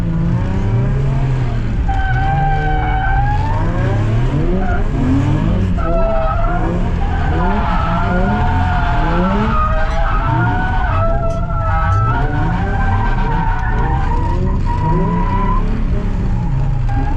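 A drift car slides around a slick practice track, with long, wavering tire squeals and skids layered over a loud, revving engine that rises and falls throughout.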